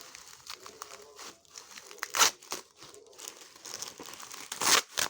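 Plastic wrapping of a blind box holding motorcycle cards crinkles and tears at close range in quiet, irregular rustles, with a couple of louder ripping bursts.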